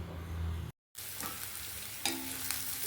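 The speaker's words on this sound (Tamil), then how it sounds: "வெங்காயம் லைட்டாக பிங்க் ஆகிற வரைக்கும் வதக்கிக்கலாம்." Onions sautéing in a pan for a palak dal, a soft close sizzle broken by a brief dropout, then continuing with a few light stirring scrapes.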